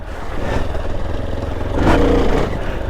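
A motorcycle on a green-laning ride revving hard while lifting into a small wheelie, the engine note loud and close and swelling briefly near the end.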